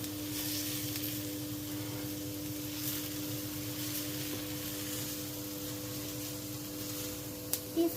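Onions sauté in a pan with salt added, giving a steady, even sizzle and hiss that runs throughout with a low electrical hum underneath and a couple of small clicks near the end.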